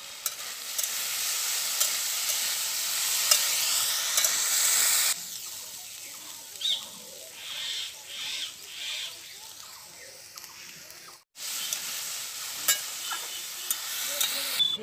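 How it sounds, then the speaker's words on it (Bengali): Potatoes fry in a pan with a lid, a loud hiss that drops once the lid comes off, followed by bursts of spatula scraping and stirring over a softer sizzle, with a brief cutout near the end. "ঢাকনাটা খুলে একবার আলুগুলো নেড়ে নিই।"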